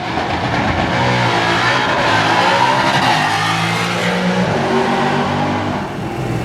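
A Whipple-supercharged 2024 Ford Mustang GT roars continuously at high revs for several seconds on a drag strip pass, pitch climbing through gear changes, with no talking.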